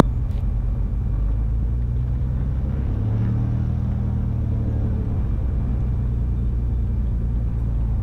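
A twin-engine Cessna departs a runway, a loud, steady, unbroken engine drone and rumble that swells slightly partway through, with no voices.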